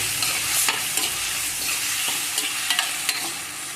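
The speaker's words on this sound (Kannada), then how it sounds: "ಇದು ಚೆನ್ನಾಗಿ ಫ್ರೈ ಆಗಲಿ." Drumstick leaves fry in a pan for nugge soppu palya, a continuous close hiss and crackle punctuated by quick spatula taps and scrapes against the pan, with no one speaking.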